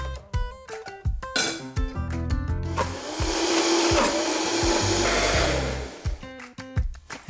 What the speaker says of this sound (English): Just straight into our blender.